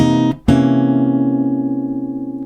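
A jazz chord shifting from sharp 9 to flat 9, one sustained chord that is cut briefly and then rings out and slowly fades, with no talking.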